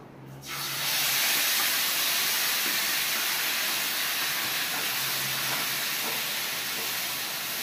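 Onion and tomato paste frying in hot oil for a Konkani-style green egg masala gives off a steady, close sizzling hiss that starts after a brief quiet moment and holds evenly to the end.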